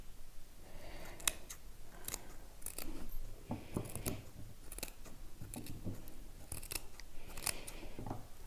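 Scissors snip repeatedly around the edge of a knitted or crocheted scarf piece, a close, crisp series of short metallic cuts in an uneven rhythm with brief pauses, no talking.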